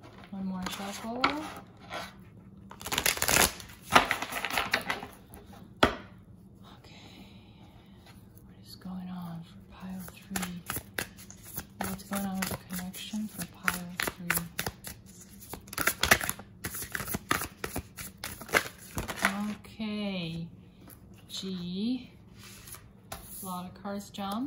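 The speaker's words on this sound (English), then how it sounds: "One more shuffle." Tarot cards shuffled by hand during a reading: soft repeated riffling and slapping bursts, close and fairly quiet, with whispered and spoken talk between them.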